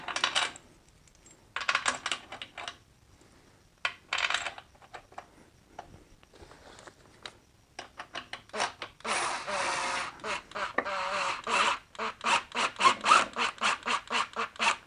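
A power tool runs bolts down on a BMW ZF 5HP19 transmission during a rebuild, short close bursts of whirring and rattling broken by quiet gaps and clicks, getting busier toward the end.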